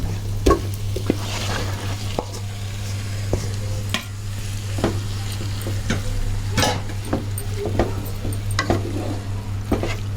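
Marinated chicken hits a pan of golden-fried ginger garlic paste for a cashew chicken curry, giving a steady close sizzle broken by repeated sharp spoon clicks and scrapes as it is stirred, with no talking.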